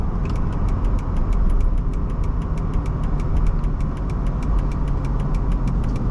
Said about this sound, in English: When you downshift gears.